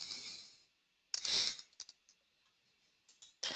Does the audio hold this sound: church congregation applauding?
no